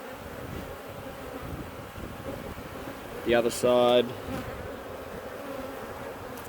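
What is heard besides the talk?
honeybees buzzing during hive inspection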